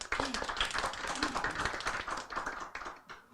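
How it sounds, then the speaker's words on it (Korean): An audience at a cultural city forum in Gimhae claps to welcome a speaker, a short round of crisp, close applause that fades out after a few seconds. "박수로 환영해 주시기 바랍니다"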